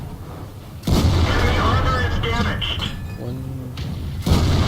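An AMX 50 120 tank cannon firing in World of Tanks, with two heavy booming shots a few seconds apart, loud and close, a voice talking briefly between them.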